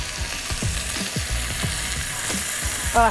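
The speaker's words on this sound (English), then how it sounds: "What we're doing right now is we're browning it. We're gonna sear in the juices." Food for Manhattan clam chowder sears and browns in a hot pan, giving a continuous loud sizzle with low knocks and scrapes from stirring. No one talks.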